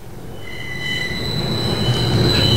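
LRT light rail train wheels squealing with high, sustained metallic tones over a steadily rising rumble of the passing train, loud and close, with no voices.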